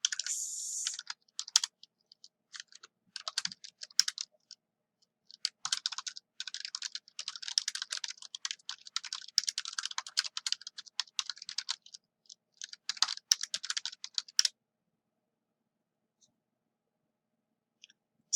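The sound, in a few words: typing on a computer keyboard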